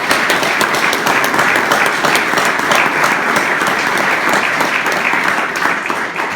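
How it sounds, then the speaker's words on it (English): An audience at a county executive's budget address applauds loudly and continuously, a full, dense clatter of many hands lasting several seconds with no speech. "They deserve a round of applause."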